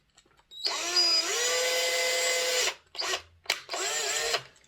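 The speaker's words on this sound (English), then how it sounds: "immediately behind the existing hole where I want to drill" A power drill whirs loudly and steadily for about two seconds, then gives two short bursts and one more sustained run, close by, drilling a small hole in a model railway coach.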